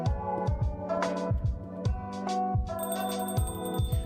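A forgotten mobile phone rings out in a café-style room, its tone repeating in a steady, melodic pattern across the moment, fairly clear and unaccompanied by any talk.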